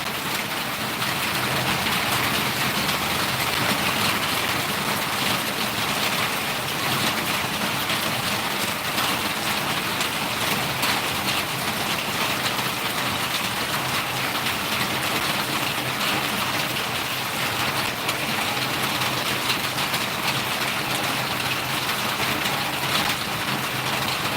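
Heavy rain with very large drops pours down steadily and loudly on a farm, a dense unbroken roar lasting throughout.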